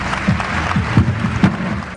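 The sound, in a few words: audience applause at award ceremony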